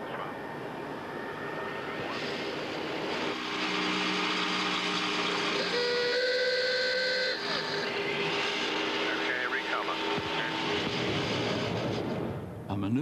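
Test aircraft engines during a stick pusher descent, a loud steady roar with shifting whining tones as the throttles close, and cockpit voices talking over it.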